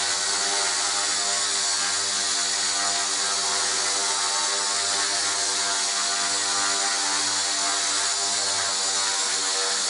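A WL Toys V950 RC helicopter runs continuously up close, its motor and rotor giving a steady high-pitched whine and buzz with a faint fluttering pulse, loud and unbroken for the whole stretch.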